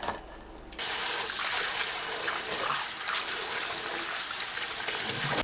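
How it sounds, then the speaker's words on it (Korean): Soybean sprouts being washed in water in a kitchen, a steady close rush of running water with splashing and swishing, starting after a brief quieter moment and continuing unbroken. "콩나물을 씻어 준비합니다."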